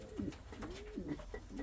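An Indian Fantail pigeon coos softly nearby, a few low rolling, warbling phrases in quick succession over a quiet background.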